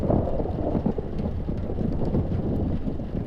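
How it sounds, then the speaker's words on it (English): A deep, rolling boom of thunder during a storm, with a sustained low rumble mixed with rain noise and wind buffeting across the whole stretch, loud and heavy with no voices. "the near-deafening boom of thunder slammed into her eardrums at full force"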